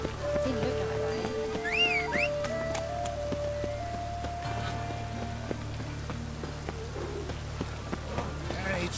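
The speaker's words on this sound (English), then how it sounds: "It's raining again." Steady rain patters across the ground in The Witcher, a soft even hiss with scattered drops throughout, while faint melodic game sounds drift underneath.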